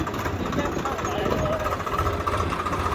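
A Swraj 855 tractor engine runs steadily in a field as a low, rough drone, while voices talk over it.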